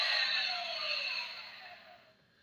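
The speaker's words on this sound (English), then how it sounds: "That you hear that powering down sound." Star Wars Micro Galaxy Squadron AT-AT toy giving off a short electronic power-down sound, a hissy, falling whoosh that fades out over about two seconds.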